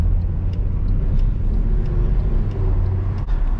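A Mercedes W204 C63 AMG with a 6.2-litre V8 in controlled efficiency mode on a town street gives a loud, close, deep rumbling burble that echoes off nearby houses, steady throughout, with no talking.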